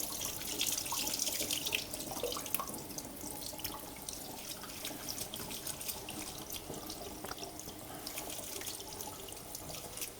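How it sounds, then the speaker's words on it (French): Cold tap water running in a gentle thin stream over smoked salmon in a kitchen sink, a steady close splashing and trickling hiss that continues without a break. "on met de l'eau froide, on y va doucement. Donc vraiment avec un petit filet"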